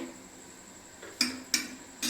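A metal lid set onto a pan of crab curry, sharp clanks and clatters of cookware arriving in a few separate knocks over a quiet kitchen background.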